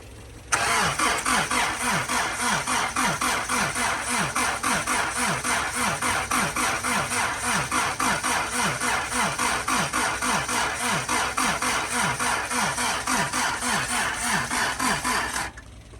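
A Honda CRX engine cranks continuously for about fifteen seconds without catching, a loud, steady, rapid chugging rhythm from the starter that stops abruptly.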